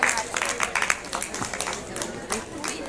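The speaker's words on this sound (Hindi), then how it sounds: "तालियां बजाते रहिए बच्चों" Schoolchildren at an Uttarakhand science festival clap, quick scattered claps under a nearby voice talking.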